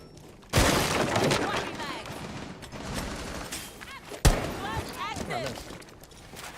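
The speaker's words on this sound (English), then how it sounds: "Who is sitting under the fucking hatch shooting shit like this?" Gunfire in Rainbow Six, two sharp loud shot bursts with breaking and shattering debris, game effects trailing after them, heard under a player's talk.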